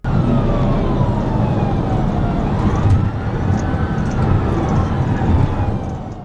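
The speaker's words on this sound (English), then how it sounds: "even as Trooper Duncan activated her emergency lights and sirens." A police car siren wails continuously with rising and falling tones over steady road and engine rumble during a pursuit, loud and close throughout.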